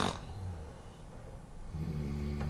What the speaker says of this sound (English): Sounds like snoring. I think it's coming from underneath the desk.